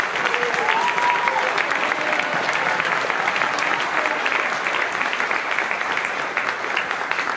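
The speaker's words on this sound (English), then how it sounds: "Let's give these guys a big round of applause." An audience at a school spring band concert claps in sustained, dense applause, steady and fairly loud throughout, with a faint voice briefly audible underneath.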